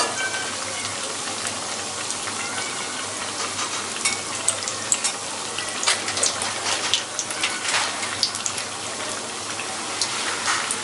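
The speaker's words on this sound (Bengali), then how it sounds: "এভাবে আমি বাকি সবগুলো ভেজে নেব।" Potato triangles fry in oil with a continuous crackling sizzle that bubbles with irregular pops, heard close and moderately loud with no one talking.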